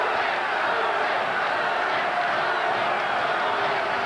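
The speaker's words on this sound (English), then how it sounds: "The crowd is chanting Rahman, Rahman." A boxing arena crowd at a heavyweight title fight chants a fighter's name, a dense, steady roar of massed voices filling the space without a break.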